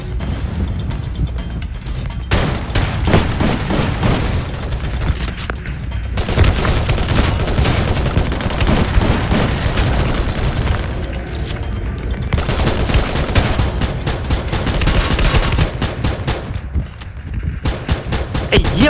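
Gunfire in a video game battle as several players shoot at once, dense bursts of rapid automatic fire and booming shots that continue almost without pause, loud and close, with brief gaps of quieter ambience.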